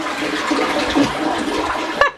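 A household toilet flushes with a steady rush of water from start to finish, ending in a brief louder gurgle as the bowl drains.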